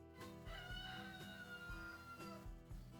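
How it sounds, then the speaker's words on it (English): A big, aggressive rooster squawks and crows among a flock of hens outside on a porch, sounding close and steady, with a harmonic call sweeping across the whole stretch and clucking mixed in. "our big old mean rooster, and he's telling them what for"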